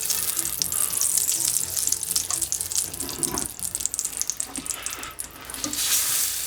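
Lard melts in a hot pan, giving a continuous close sizzling hiss with irregular crackles and pops that rises and falls slightly over several seconds.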